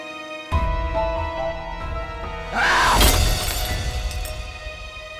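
Glass shatters loudly in a household scene from a Pakistani drama, a sharp crashing burst with scattering fragments after a short stretch of background hum, then fading into lingering room noise.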